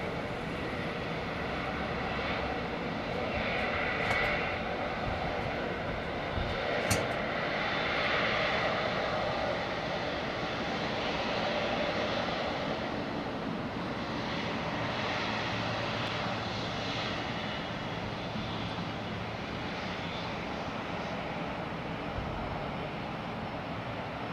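A Boeing 777 airliner departs close by, its engines a steady, loud broadband roar that holds for the whole stretch with a slight swell midway, and no voices over it.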